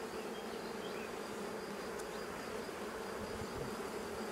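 Honey bees swarm around an opened hive during an inspection, a dense and continuous buzzing drone at moderate volume, steady throughout with no voices.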